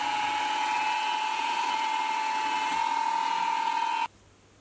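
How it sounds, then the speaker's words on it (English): A milling machine drills and taps an M6 hole for a thumb screw on a depth stop ring, giving a loud, steady high-pitched whine that holds for about four seconds and then cuts off abruptly. "Finally, I'll drill and tap an M6 hole for the thumb screw."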